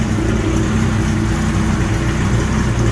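A Suzuki GS 1100E custom motorcycle engine runs steadily with its choke off, a loud, close, continuous low rumble with an even pulsing throb and no talking.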